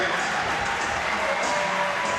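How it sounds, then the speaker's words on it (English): A crowd applauds returning alumni at a boys' high school basketball game, a steady dense wash of clapping and noise filling a gym with no gaps. "give a round of applause for these alumni that came back"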